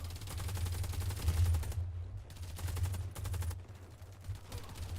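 Rapid automatic gunfire in a Warface team deathmatch, with loud continuous bursts over a low rumbling bed and brief gaps between volleys.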